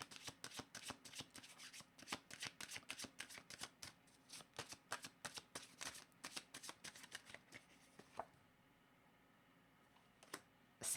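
A deck of cards shuffled close up in a quiet room: rapid, crisp riffling flutters in repeated bursts that slow and stop, followed by a few faint clicks.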